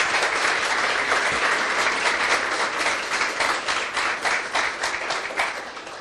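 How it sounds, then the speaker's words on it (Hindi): Church congregation clapping for Jesus, a dense sustained round of applause from a large crowd that stays loud throughout and tapers slightly near the end. "आइए ऐसे ही यीशु के लिए ताली बजाएंगे हम सब।"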